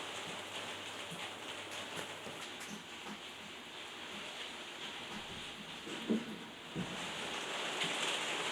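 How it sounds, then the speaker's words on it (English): Steady rain falls outside a pottery studio, a constant broadband hiss of drops on surfaces with a couple of louder patters near the end and no voices. "And apologies for the rainy noise in this video."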